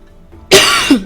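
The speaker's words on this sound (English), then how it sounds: "I had a cough, it won't leave" A single sharp, loud cough bursts out after a moment of near silence, followed by a brief second hack as the breath is pushed out.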